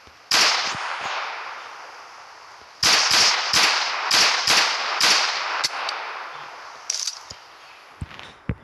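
Desert Eagle pistol fire in a PUBG Mobile shooter game: a single sharp shot, then after a pause a rapid string of loud, close shots and a few scattered later ones, with no talking.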